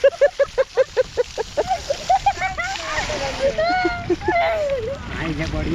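Water splashes in a flooded rice paddy during Konkan rice planting, sloshing and spattering beneath loud, excited chanting and shouting voices close by.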